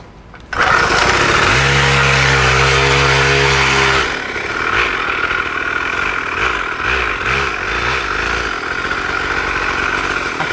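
A mini motorcycle engine revs loudly and close at a drive-thru, a rising strained whine for several seconds that drops into an uneven, throttled idle with bursts of revving.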